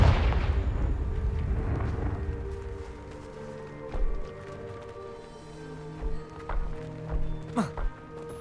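Confringo spell blast in the Hogwarts Legacy video game, a loud rumbling explosion at the start that decays over a couple of seconds, followed by scattered thuds and game effects with a spoken voice.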